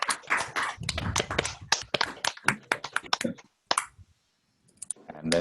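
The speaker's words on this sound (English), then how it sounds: "Let's all unmute ourselves and clap." Participants in an online academic meeting unmute their microphones and clap, producing a cluster of sharp, uneven claps that stop briefly near the end and then return, sounding thin and close through computer audio.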